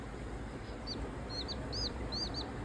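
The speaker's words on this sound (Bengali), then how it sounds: "এটা মুরগির বাচ্চা" A baby chick peeps in short, high, bright bursts, several quick calls in a row over a low steady background hum, fairly faint and close.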